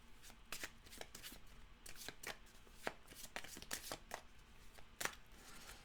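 Rustling card shuffle through a deck of animal oracle cards, a run of crisp riffling flicks and taps close by, moderately quiet, with no talking.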